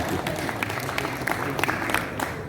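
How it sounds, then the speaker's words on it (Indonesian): A crowd claps at a JMSI Aceh award ceremony in Aceh, a loose, moderate round of applause with some individual sharp claps standing out and a low hum of voices and room noise underneath. "Tepuk tangan lagi untuk JMC Aceh."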